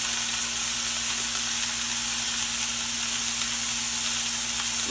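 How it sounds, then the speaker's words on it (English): Beef rump roast searing in a hot pan before going into a slow cooker, giving a steady, loud, close sizzle and hiss with no pauses and no talking. "Searing it up."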